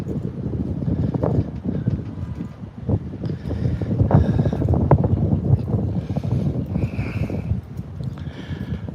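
Steady low rumbling wind buffeting a microphone throughout, with scattered clicks and faint higher tones drifting in and out.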